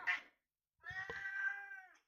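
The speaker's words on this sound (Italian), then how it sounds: "La gatta sembra essere d'accordo." A female house cat meows indoors: a short faint mew, a pause, then a longer, louder drawn-out meow heard alone.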